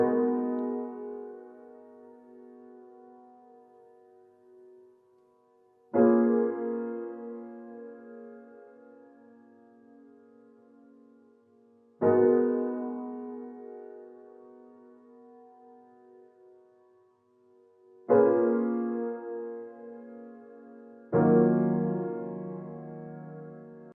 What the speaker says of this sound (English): I started out with a simple progression which sounds like this